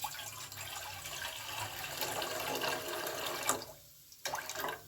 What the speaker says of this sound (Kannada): 2 ಗ್ಲಾಸು ನೀರು ಹಾಕ್ತೀನಿ.